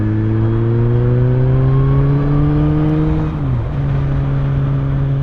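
A 2020 Suzuki GSX-S1000F motorbike engine in fifth gear, around 4,000 RPM, holds a steady rising drone, pitch climbing smoothly as it accelerates, then dips briefly near the end before carrying on, loud and close.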